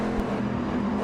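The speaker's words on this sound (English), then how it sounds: "very interesting to listen to the engine note of the Corvettes as they exit the Castiel Triangle there" A Corvette GT race car's engine drones steadily at high revs on the Suzuka circuit in a racing game, a continuous loud mechanical note with no speech.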